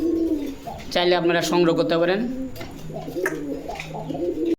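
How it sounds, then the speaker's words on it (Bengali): Pair of Golla pigeons, a large breed, cooing in repeated soft throaty calls close by, with someone talking over and between the coos. "এটা হলো এক জোড়া গোল্লা কবুতর"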